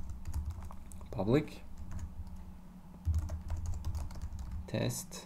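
Code is typed on a computer keyboard in quick, light clicking runs while someone talks over the keystrokes.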